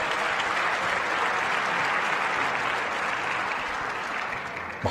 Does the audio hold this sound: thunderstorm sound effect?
no